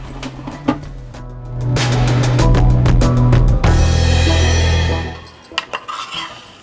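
Roasted toor dal is tipped from a hot pan into a steel vessel, heard as sharp metallic clinks and scrapes followed by a long rattling pour of grains, then a few final taps.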